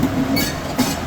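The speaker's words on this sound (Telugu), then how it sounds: "ఇక వచ్చే ట్రైన్ అయితే Secunderabad to Visakhapatnam special express" A Secunderabad to Visakhapatnam special express train runs close by, a loud steady rumble of wheels and carriages with brief metallic squeals, no voices.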